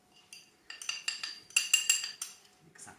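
A spoon works falafel mixture with egg and flour in a bowl, making quiet, irregular clinks and scrapes against the bowl in short bursts, with no voices.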